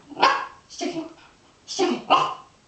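A Border Collie barks on command, four short sharp barks in two pairs close to the listener, with little else around them.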